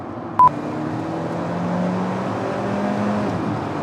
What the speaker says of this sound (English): There's the turbo, that's what we like to hear